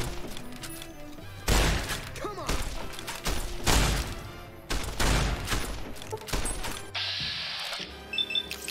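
Gunfire in Fallout: New Vegas, several sharp, loud shots in quick succession with echoing tails, followed by a steady whining tone near the end amid game sounds.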